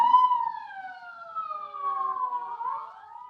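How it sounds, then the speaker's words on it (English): Sirens of state police cars in an old radio drama, a single wailing tone that slides slowly downward and then swoops back up, loud and clear with nothing else behind it. "Sirens, state police,"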